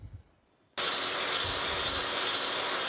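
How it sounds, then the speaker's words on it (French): An angle grinder fitted with a cutting disc starts abruptly and holds a loud, steady high whine and rasp as it trims cattle hoof claw horn, following a faint quiet lead-in. "je vais prendre ma meuleuse et je vais faire mes surfaces portantes"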